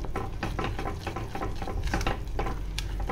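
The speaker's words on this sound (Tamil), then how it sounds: "ஃபுல்லாக அப்படி கிளறி விட்டு பாருங்கள் எப்படி பூத்து வருதுன்ட்டு." A thick ghee Mysore pak mixture is stirred in a pan, giving a quick run of close, rhythmic scraping and soft wet patting strokes that repeat for a few seconds, with no talking.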